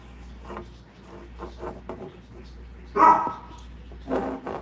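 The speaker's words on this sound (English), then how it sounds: "I don't know if you heard my dog" A dog named Biscuit barks indoors, a few short sharp barks near the end after softer sounds, with a person talking quietly nearby.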